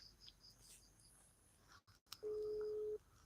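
A phone call signal in a live search stream, a single steady tone lasting under a second that follows a brief dropout in faint background noise, with no speech.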